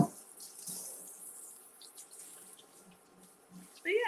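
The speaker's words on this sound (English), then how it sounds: "Just giving this a nice wash. And then we're going to give it a good rinse." Tap water runs steadily into a kitchen sink while food is rinsed under it, a soft, continuous hiss with faint splashes that swells louder near the end.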